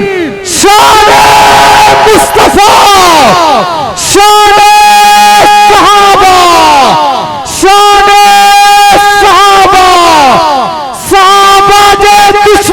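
A large crowd at an outdoor religious gathering in Larkana shouts a loud, reverberant chant in response to a call through a loudspeaker, with repeated roaring bursts separated by brief pauses.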